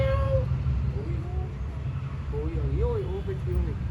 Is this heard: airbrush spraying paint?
no